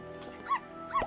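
A dog in the farming game My Time at Portia gives two short, high whining yips about half a second apart over a quiet, steady game background.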